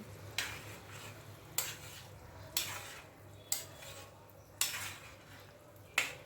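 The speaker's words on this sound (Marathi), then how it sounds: "हे सगळं पुन्हा व्यवस्थित मिक्स करून घेते" A spiced vegetable curry of sprouted beans is mixed in a pan, with a sharp scrape or knock of the spoon about every second over a soft, low background.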